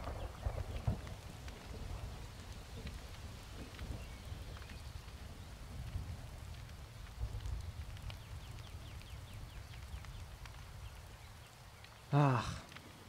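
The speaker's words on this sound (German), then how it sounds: "Es ist ja nun schon ziemlich starker Regen." Heavy rain in the Skyrim video game falls as a steady, dense hiss throughout, with a brief louder burst near the end.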